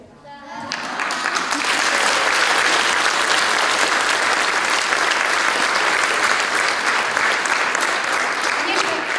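Audience applauding at a children's choir concert, loud sustained clapping that starts abruptly after a brief quiet moment and keeps an even, dense level to the end.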